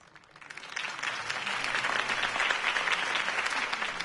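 Crowd applause after a campaign speech in a Batman video game on PS4, swelling in after a quiet start into steady, dense clapping that stays even and fairly distant.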